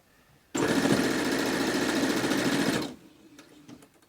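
A sewing machine stitches across a fold of fabric while making a cloth face mask, a steady, loud, close mechanical whir lasting a couple of seconds before stopping abruptly, followed by faint clicks.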